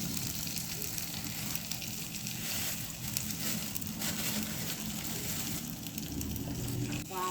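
Burger patties frying in a pan of butter and a little oil, a continuous close sizzle and crackle that holds steady throughout, with faint talk now and then.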